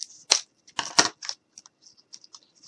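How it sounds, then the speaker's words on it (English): Scissors snip through a red ribbon from a dollar store in a few quick, close crisp cuts, with a couple of louder snips early and smaller clicks trailing off. "And I'm just going to cut this open."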